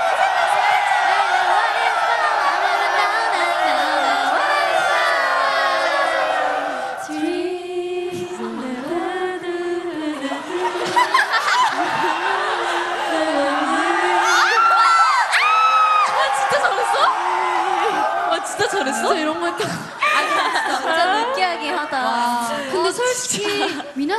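A crowd of fans shouts and cheers at a TWICE K-pop showcase, with loud, continuous high-pitched screams and whoops that dip briefly partway through before rising again.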